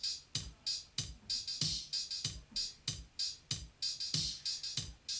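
Simple electronic drum beat programmed in Logic at 95 BPM, a steady repeating pattern of kick thumps and bright hi-hat and snare hits, fairly quiet and alone with no voice.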